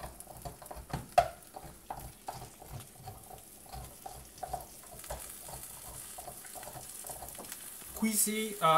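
Omelette frying in a pan, a steady soft sizzle with scattered clicks and scraping, ending in a louder clatter as it is flipped.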